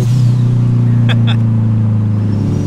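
A Mitsubishi Lancer with a 4G15 engine held against its rev limiter: a loud, steady engine drone with a fast stuttering pulse, broken by a couple of brief higher bursts.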